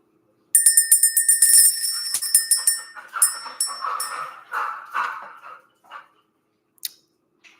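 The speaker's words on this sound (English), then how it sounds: "Let's ring the bell." A small bell, rung to clear energy, gets struck in a quick run of bright, ringing hits whose tones gradually thin and fade, followed by a pause and a couple of faint final taps.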